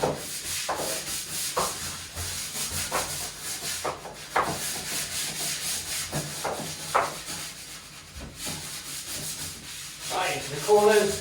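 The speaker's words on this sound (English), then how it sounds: "get the scrubbing brush. Get it in there." A scrubbing brush works over wet-room floor tiles in steady back-and-forth strokes, each rasping swipe close and fairly loud, repeating about every half second with a few brief pauses.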